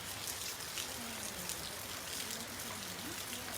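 Steady rain falls in a Costa Rican forest, a dense, even wash of patter and drips with faint low background tones running throughout, with no talking.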